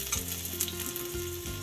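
Grated coconut frying in a hot pan for a chicken gravy, a steady close sizzle with a few stirring scrapes and no voices.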